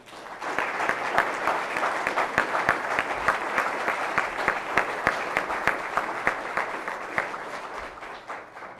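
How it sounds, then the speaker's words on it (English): Sustained applause from a seated crowd at a fire department recruit completion ceremony, even and steady clapping with crisp individual claps popping out, continuing evenly throughout without voices. "Let's give them a round of applause."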